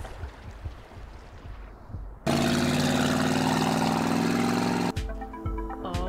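A jet squid propels a swimming character underwater in the video game Rain World Downpour, with a sudden loud, dense rushing burst that holds steady for about three seconds, then cuts off abruptly to quieter watery ambience.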